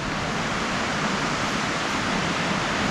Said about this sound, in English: I can see the waterfall through the branches. You can definitely hear it.